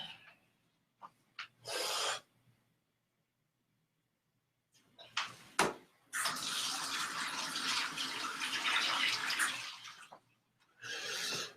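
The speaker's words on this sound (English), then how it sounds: "Washing your hands." Water runs from a tap while hands are washed under it. The flow comes in short splashes and then one longer steady stream, followed by a final brief rush, all close up with no talking.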